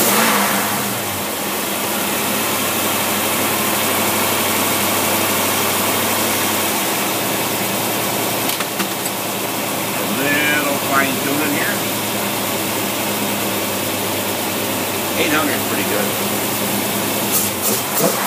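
A Predator 390 carbureted engine idles steadily and evenly nearby at about 750 to 775 rpm, a constant low hum with faint voices murmuring in the background.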